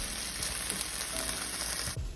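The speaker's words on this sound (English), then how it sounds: "the ginger garlic's in, and we're just gonna saute it for another minute" Ginger and garlic sautéing with onions in a pan for butter chicken, a brief close, steady hiss and crackle of frying with faint stirring, heard alone.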